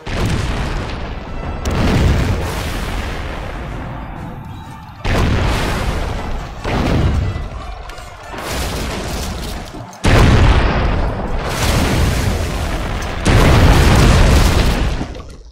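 Repeated explosions from corsairs attacking a ship in Anno 1404 come as four heavy booms a few seconds apart, each a loud blast that rolls off into a rumbling tail, with nothing else between them.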